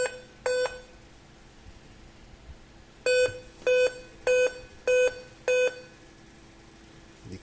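A Dell Inspiron 15 laptop sounds error beeps through its speaker: one beep, a pause, then a run of five evenly spaced, sharp electronic beeps, clear and alone.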